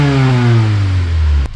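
An EP3 Honda Civic Type R with stock back box revs hard once, a loud, close engine note falling in pitch over about a second and a half before cutting off abruptly.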